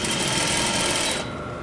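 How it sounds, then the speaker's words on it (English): A sewing machine runs steadily and loud while stitching a seam with a one-inch allowance and a few reverse stitches, with a slight change in tone near the end. "Take a few stitches, reverse, make sure that you give your threads a little tug."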